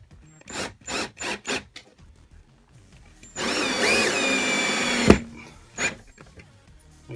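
A power drill drives screws into a galvanized pipe bed railing, one sustained whirring burst in the middle, with tapping and knocking of parts before and after, close and fairly clear.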